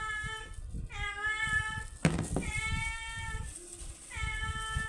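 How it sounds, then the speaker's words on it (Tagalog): A cat meows repeatedly, around four drawn-out, insistent cries close by, with soft clattering in the background. "Maingay ang pusa ko."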